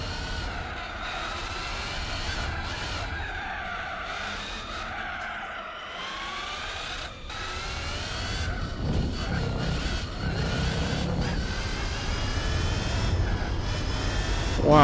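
A race car in Gran Turismo 4 tearing over Italian cobblestones, its engine a loud, continuous drone that rises and falls with shifting pitch, mixed with tyre squeal and skidding noise.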